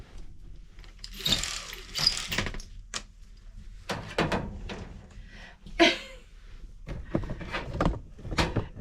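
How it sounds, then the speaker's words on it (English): Window blinds are pulled up in a home in a series of ratcheting, clattering mechanical bursts with short pauses between them, close and moderately loud with no talking. "So we're putting all the blinds up."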